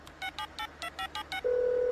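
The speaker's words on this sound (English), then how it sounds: "Oh, it's ringing, Rupert. It's ringing" Telephone keypad dialing: eight short, evenly spaced touch-tone beeps in quick succession, followed by a steady, clear ringing tone that holds to the end, with no voices.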